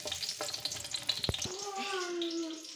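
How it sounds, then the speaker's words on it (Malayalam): Whole spices such as lemon, cardamom, cinnamon, cloves and pepper go into beef ghee for mandi, making a soft close sizzle with light clinks and stirring taps. "അതിനുശേഷം നാരങ്ങ ഏലക്കായി പട്ട കറാമ്പൂവ് പിന്നെ കുരുമുളക് ഇതെല്ലാം നമ്മൾ ഇട്ട് കൊടുക്കാം"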